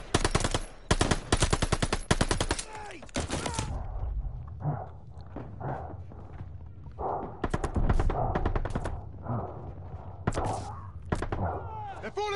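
Rapid machine-gun bursts from Call of Duty Vanguard, a World War II campaign game, open with dense loud automatic fire, then continue as scattered shots and short bursts amid battlefield noise and shouted voices.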